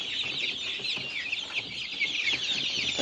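A coop holds about sixty month-old chicks, a dense continuous chorus of high peeping and chirping from many birds at once, close and steady with no gaps.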